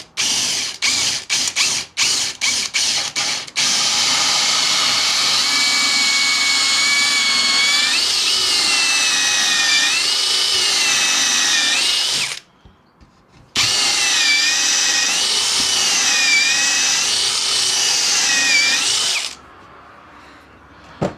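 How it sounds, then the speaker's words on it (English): A Lidl Parkside hole saw spins up with a few quick trigger pulses, then whines steadily as it cuts through 18mm hardwood plywood, pausing briefly before a second loud cutting run, close and with no talk. "I'll just quickly go through this 18mm plywood, hardwood ply"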